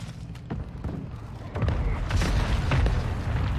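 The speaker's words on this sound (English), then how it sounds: "I'm sort of hiding in here while there's mortars going on" Mortar shells explode around a hiding spot in the action game Prototype, a series of deep booming blasts and thuds, rumbling and fairly loud, building into a denser barrage.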